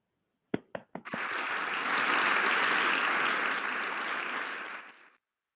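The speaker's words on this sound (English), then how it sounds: "One more round of applause for those resolutions." An audience at a closing general assembly of a model UN conference applauds the resolutions: a few lone claps start it, then a dense, loud burst of clapping swells and holds for about four seconds before stopping abruptly.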